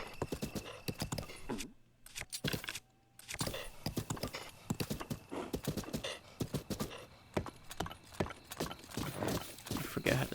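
Horse hooves galloping in the video game The Legend of Zelda: Breath of the Wild, a fast, steady clip-clop rhythm running loud and close throughout, with a brief pause partway and a faint whinny.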